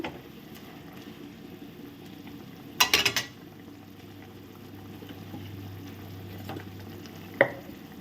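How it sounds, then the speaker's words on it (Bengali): Raw banana kofta curry bubbling in a pan, a low steady simmer with a couple of sharp clinks and stirring knocks. "ফুটে উঠেছে ঝোলটা।"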